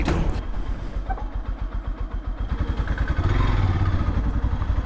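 A delivery motorbike engine starts up and runs close by, a rapid, throbbing putter that grows steadier and louder as the bike moves off, with light clatter at the start.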